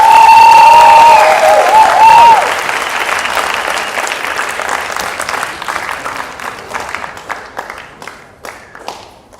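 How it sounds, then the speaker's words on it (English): Audience applause after Anushka's arangetram dance performance, a loud sustained burst of clapping that slowly thins and fades over several seconds, with a brief melodic tone near the start. "give Anushka one more round of applause"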